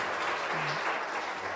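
Congregation clapping at a church service, a brief soft wash of applause with a faint tonal murmur partway through, fairly distant and low in level.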